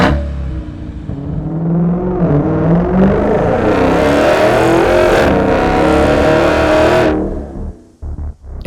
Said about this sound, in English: If you're looking for that deep signature MagnaFlow tone